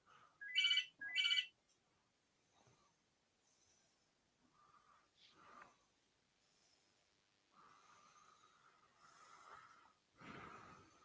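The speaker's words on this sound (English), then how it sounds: "Excuse that phone." A phone ringtone chirps twice in quick bursts near the start, then quiet room noise, breathing and faint sounds follow at low level.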